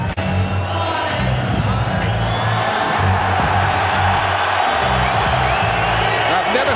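A boxing arena crowd roars and cheers for heavyweight Lennox Lewis in a sustained, loud wash of voices and whoops, with a commentator talking over it.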